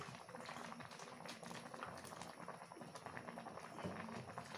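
Taro simmering in a pot of coconut milk, a soft continuous bubbling with small irregular pops and blips, faint and close, with no talk.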